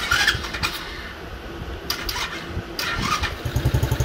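A small SSR dirt bike is kick-started. A few rough attempts are followed by the engine catching and sputtering into a quick, uneven putter near the end. The sound is close, with no talking.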